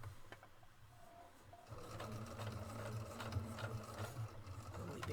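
A Pfaff Creative 1.5 sewing machine stitches a 5/8 seam, starting with a few quiet clicks, then settling into a steady, fast, close-up mechanical hum and rattle that runs to the end.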